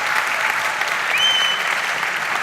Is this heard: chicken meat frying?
no